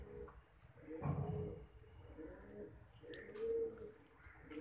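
A teddy pigeon coos at close range, with a louder burst of cooing early on and softer calls after, plus a few faint chirps in the background.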